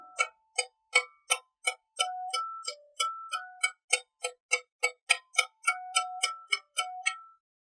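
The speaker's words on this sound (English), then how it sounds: "picking the string and then moving across the string, you'll start to hear the differences in where the harmonics are" A guitar played with pinch harmonics, picked repeatedly while the attack moves along the string, gives a rapid run of short, bright, squealing pings with shifting pitch, fairly faint and evenly spaced.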